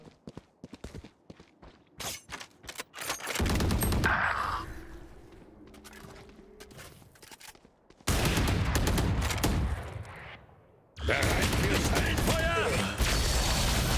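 Gunfire in the video game Valorant, with rapid single shots early on, then long sustained bursts of automatic fire, close and loud, with mechanical clicks and footsteps between them.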